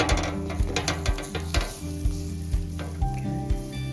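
Flatbread cooking over an open fire, a soft continuous sizzle and crackle under a rhythmic pulsing low tone, close and moderately quiet with no talk.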